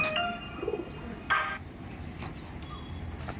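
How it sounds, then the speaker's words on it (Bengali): A female pigeon, one of a pen of flying pigeons, gives a soft low coo close by, alongside faint background chirps and a brief burst of noise. "এবার দেখুন, এটা হচ্ছে ফিমেল পায়রা।"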